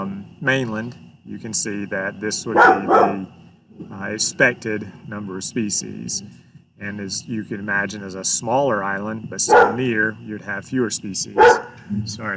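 A dog barks in short, sharp bursts repeatedly in the background while a man lectures close by, the barks scattered through his steady talk.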